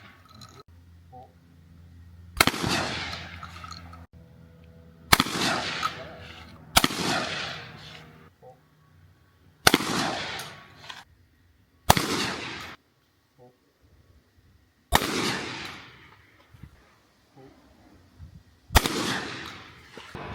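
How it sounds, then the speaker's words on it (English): Shotgun blasts ring out at a trap shooting range at the Sun Valley Gun Club, about eight loud, sharp reports spaced a couple of seconds apart, each with a brief decaying echo over a quiet outdoor background. "now we're gonna head over to the Sun Valley Gun Club to do some trap shooting"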